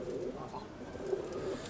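Pigeons coo in low, soft, repeated calls at a pigeon breeder's loft keeping an old fighting breed, a steady burbling chorus close by with no talk.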